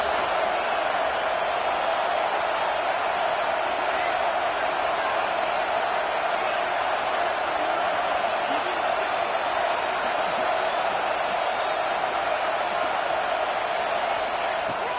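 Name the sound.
crowd roaring in a college football video game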